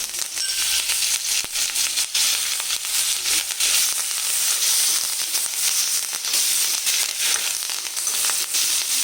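Curry leaves sizzling loudly in hot oil with already-fried tempering spices, a dense crackling spatter that stays strong and unbroken throughout, close by.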